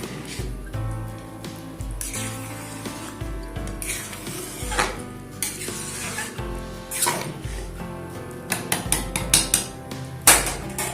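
Bhog khichuri with sugar being stirred in a pot, heard as repeated scraping and knocking of a utensil against the pot, with clanks that come close and grow louder toward the end.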